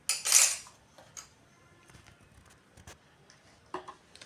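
A metal spoon clinks and scrapes against a dish while stirring gum for homemade watercolour paint, a bright clatter at the start followed by scattered soft taps and scrapes in a quiet room.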